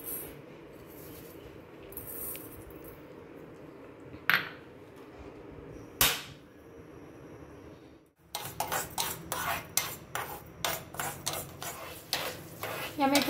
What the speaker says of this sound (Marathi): आता आपण सगळ्यात पहिल्यांदी या 1-2 चमचे मेथ्या थोड्याशा तेलावरती